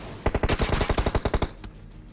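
A rapid burst of automatic gunfire in the battle royale game PUBG Mobile, about a dozen loud, evenly spaced shots, followed by a pause and one fainter shot.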